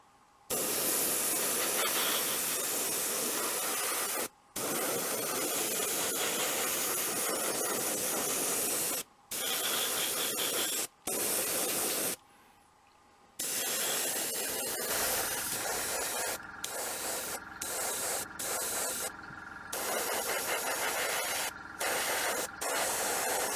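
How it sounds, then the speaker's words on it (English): Light grey paint sprays from an airbrush or can onto a 1/72 Revell Type XXVIIB Seehund model submarine, a loud continuous hiss broken by several short pauses and then quicker on-off bursts. "I'm now going to spray light grey over the top half of the submarine"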